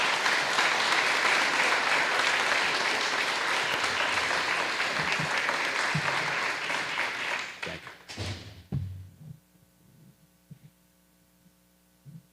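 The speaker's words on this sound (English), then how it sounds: "We give them another round of applause." Audience at a school board meeting gives a round of applause, dense clapping that fades out after several seconds, followed by scattered thumps and a low electrical hum in a quieter room.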